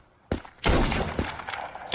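Gunshots in a shooter video game, a few sharp bursts in quick succession after a brief quiet start, close and fairly loud with no talk.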